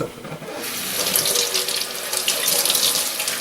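Tap water runs steadily to rinse a lapping plate used for sharpening a Suehiro whetstone, a close, continuous hissing splash that starts softly and grows fuller after a moment.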